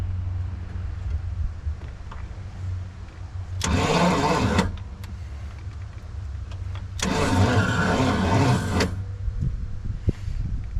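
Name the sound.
1969 Pontiac Bonneville 428 engine slowly cranking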